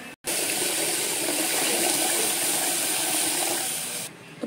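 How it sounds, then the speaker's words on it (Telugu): Water pours steadily into rice for a baby-potato biryani, a loud continuous gushing and hissing that runs for about four seconds before stopping, with no talk. "నేను ఇప్పుడు ఇంకా వాటర్ వేస్తున్నాను"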